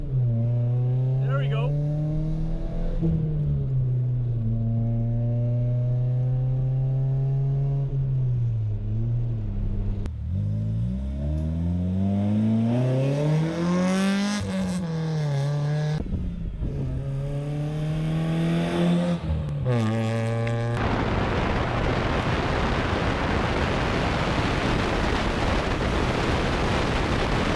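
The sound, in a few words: 2000 Nissan Sentra SE B15 SR20 engine accelerating, POV pull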